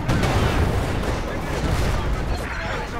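Tank cannon fire and battlefield gunfire in Company of Heroes aimed at a German Panzer IV, loud dense booms and crackling shots filling the whole stretch, with a voice talking underneath.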